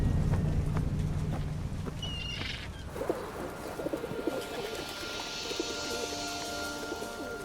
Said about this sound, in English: A passing flock of pigeons catches their eye.